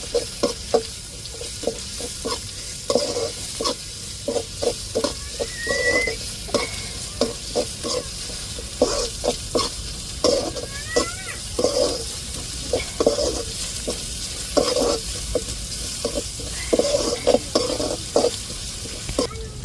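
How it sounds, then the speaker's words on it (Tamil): Ground ginger-garlic paste is sautéed with onions in a pan in a home kitchen. A spatula scrapes and stirs in repeated strokes over a steady sizzle for about twenty seconds, with no talking. "அரைச்செடுத்த இஞ்சி பூண்டை அந்த வெங்காயத்தோடு சேர்த்து நல்லா பச்சை வாடை மாறத்துக்கு வதக்கி விட்டுக்கிடுவோம்."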